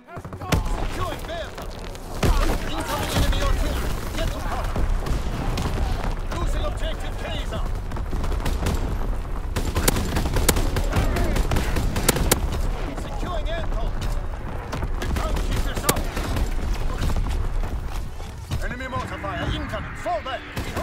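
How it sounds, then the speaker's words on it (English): Incoming artillery fire in a first-person shooter game on the Shipment map, with continuous loud battle noise, thuds and bursts of shots, and game voices calling out over the constant din. "Incoming enemy artillery!"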